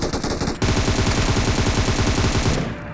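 Rapid automatic gunfire in a battle royale video game, a loud dense burst of closely spaced shots that runs for over two seconds after a brief lead-in and then cuts off.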